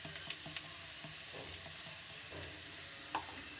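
Pirandai (adamant creeper) sautéing in a pan, a soft close sizzle with light crackles and a few faint stirring knocks, quiet and without talk.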